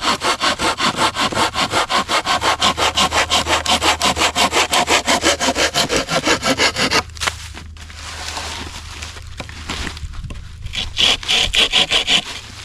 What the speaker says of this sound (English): This is a saw that cuts on the push and the pull.